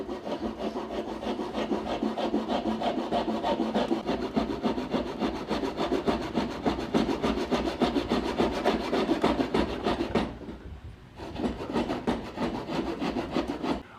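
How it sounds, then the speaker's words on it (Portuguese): Hand saw cutting wood for a mortise and tenon joint, rapid rhythmic rasping strokes close up and loud, pausing briefly about ten seconds in before sawing resumes. "Eu vou encostar a parede do serrote aqui e vou serrar."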